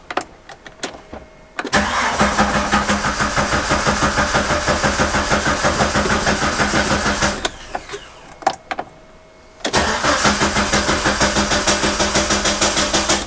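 An old project Jeep's starter cranks with a fast rhythmic chug, stops, then cranks again in a second long burst. The engine never catches, and a few clicks fill the gaps.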